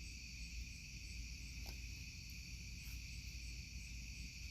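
Evening crickets chirp faintly in a steady, high continuous trill with no voices, and a quiet low background hum sits underneath.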